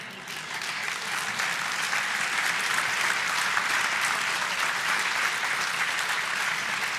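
Steady audience applause fills a hall at the close of an evening debate with a live audience, dense and sustained clapping throughout with no voices on top.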